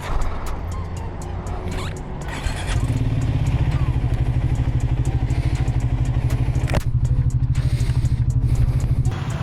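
A motorcycle engine catches and settles into a steady, loud idle from about the third second onward, preceded by brief cranking and clatter, with some voices heard nearby.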